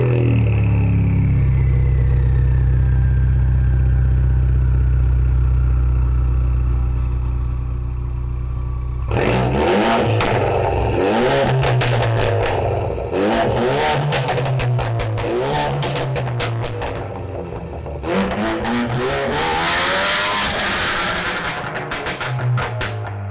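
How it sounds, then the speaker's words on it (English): A Ford Mustang EcoBoost with a burble tune idles with a low steady hum, then fires into a series of loud revs with rough crackling burble on the lift-off between blips, close and without talk. "we're gonna turn this thing on and we're gonna give you guys a sample on what that Burble tune sounds like"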